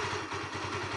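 A Honda CBR150 motorcycle engine idles close by with a steady, fast, even throbbing pulse and no voices.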